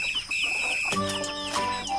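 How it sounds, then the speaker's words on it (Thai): Chickens cluck close by while being fed rice, with a drawn-out call giving way to a busy cluster of loud, overlapping clucks. "ไก่จะได้กินจะได้อิ่มท้องไวๆ"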